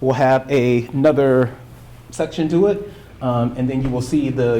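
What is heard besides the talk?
None of the usual background noises is heard.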